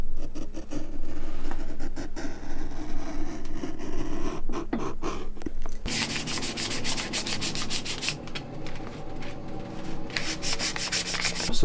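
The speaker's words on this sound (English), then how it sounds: "I'm going to sand that into a taper, kind of like a logger boot." Close, steady back-and-forth sanding rasps against the leather sole edge of an Allen Edmonds Normandy boot as it is shaped into a taper, turning brighter and harsher halfway through, with no talking.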